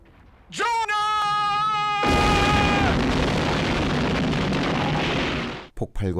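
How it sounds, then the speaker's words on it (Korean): A big explosion in a Western film booms in right after a sustained musical tone, then roars on loudly as a long rumbling blast that slowly fades out. "폭발과 함께 사라집니다."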